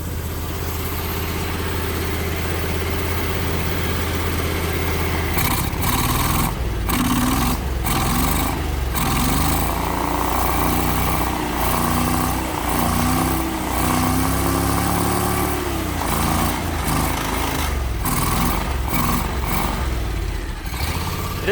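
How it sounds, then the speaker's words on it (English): A John Deere X475 lawn tractor engine runs steadily on old gas, with a fault still working through the carburetor, holding a rough mid-pitched drone with a few slight surges, close and continuous for about twenty seconds. "It's still running on the old gas because it needs to get fresh gas into the carburetor,"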